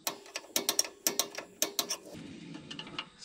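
Drum brake shoe adjuster on a Mustang being turned by hand, a run of sharp, close metallic ratcheting clicks in quick bursts, followed by a softer scraping clatter as the drum is checked.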